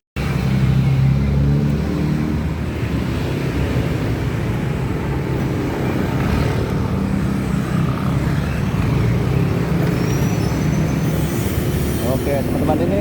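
A new Honda Vario 160 motor scooter under way, its engine droning and pulling strongly as it accelerates, with wind rumble and road noise steady throughout.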